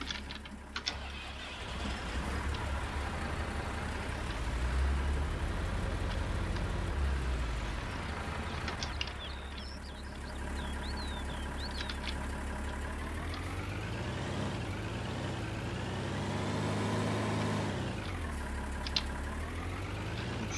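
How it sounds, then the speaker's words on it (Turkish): A tractor engine in Farming Simulator 19 drones steadily at a low idle-like pitch while reversing, with the engine note rising and falling in gradual sweeps over about twenty seconds, with no speech. "Şu traktörümüz biraz geri alalım."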